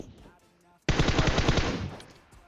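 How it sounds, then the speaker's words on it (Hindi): A rapid burst of automatic gunfire in the video game PUBG Mobile, loud and close, firing about a second and a half before stopping abruptly. "देखते ही देखते 8 गोली कब बर्बाद हो गई पता भी नहीं चला।"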